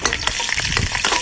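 Seafood with scallion, ginger and garlic drops into a hot wok and fries with a loud, continuous sizzle and crackle, stirred close to the microphone, with no talking.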